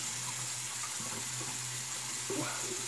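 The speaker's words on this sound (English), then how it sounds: "So let's wet the face, now the shower." A shower runs to wet the face before a shave, a steady full hiss of spraying water that stays even throughout, with a faint splash near the end and no talking.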